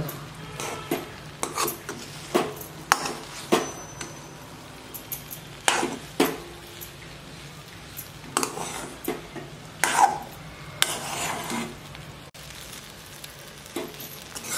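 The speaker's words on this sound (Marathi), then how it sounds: "आणखीन थोडं पाणी घालून त्याला परत एकदा हलवून घेऊ चांगलं" Upma simmering in a pot with extra water is stirred well, giving repeated scraping and rasping strokes at an uneven rhythm against a low background, close up, with no talk.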